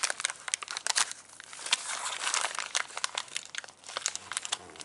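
Plastic packaging for a T-Maxx 3.3 front bulkhead set being torn open by hand, a continuous run of close, loud crinkling and ripping with sharp crackles throughout, no talk.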